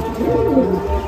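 Madrasi pigeon giving a single soft, throaty coo, close and clear, lasting about a second.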